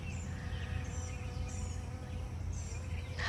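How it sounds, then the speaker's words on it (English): Honeybees buzz among summer garden plants, a faint steady hum close by, with occasional birdsong chirps in the background. "And there's so many honeybees."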